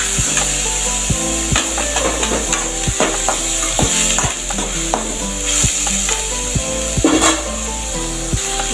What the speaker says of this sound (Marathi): मुगाची डाळ पण परतून घ्यायची।